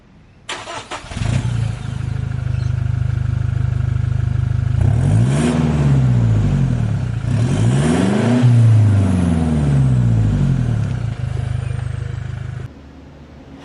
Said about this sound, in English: So much better than the stock exhaust.